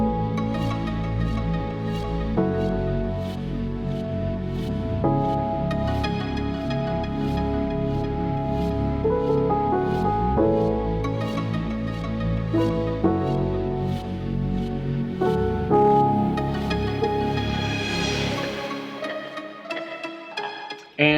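A full studio mix of a track plays continuously: deep bass, sustained strings and layered piano chords on top, dense and steady, ending with a brief dropout near the finish, no one talking.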